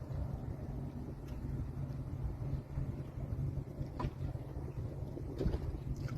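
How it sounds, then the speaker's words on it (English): Steady low wind rumble buffets the microphone out on open water during a two-day canoe trip off Key Biscayne, a continuous broadband roar with a few faint splashes or knocks and no speech. "The wind is basically taking me fucking that way."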